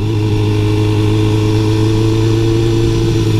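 An RT motorcycle engine idling along steadily in second gear in rain mode at low speed, a loud continuous mid-pitched hum and rumble with no change in revs.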